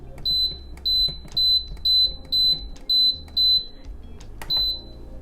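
An Instant Pot fitted with an air fryer lid beeps while its temperature is being set: eight loud, evenly spaced electronic tones in a steady rhythm, close up, with a brief gap before the last beep and faint kitchen noise underneath.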